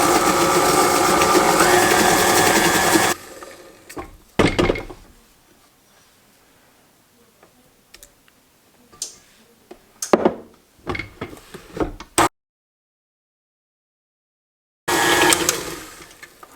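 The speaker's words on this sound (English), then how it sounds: "I'm going to let the sugar and the shortening mix for just a minute" Electric hand mixer beating sugar and shortening for pumpkin bread, running loud and steady for about three seconds, then stopping and giving way to faint kitchen clatter and a brief later whir.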